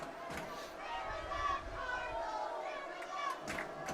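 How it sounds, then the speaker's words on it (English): Home crowd at a high school homecoming football game cheering and roaring, a broad swell of voices with shouts rising and falling across the stands. "The crowd really getting fired up here"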